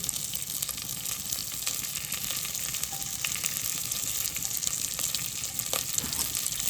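Green chillies and a dry red chilli frying in oil for pongal, a soft continuous sizzle with light crackles, heard close at low level without speech.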